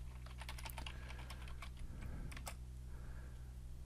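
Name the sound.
typing a folder name on a computer keyboard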